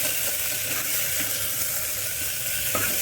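Kohlrabi pieces frying in a pan with salt for Kashmiri monji haak, producing a steady, dense sizzle that holds evenly throughout at close range, with no voices.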